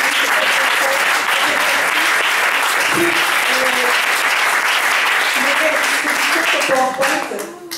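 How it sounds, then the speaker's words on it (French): Audience at a sleep-system presentation applauds after Nathalie's talk, a steady, loud wall of clapping that holds for nearly eight seconds before starting to ease, with faint voices mixed in. "je voudrais vraiment qu'on applaudisse Nathalie pour son intervention"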